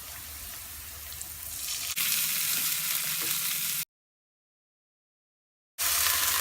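Ginger and garlic sizzle steadily in hot oil in a pan with onions and cumin, a continuous close frying hiss that cuts out briefly for a couple of seconds and then resumes.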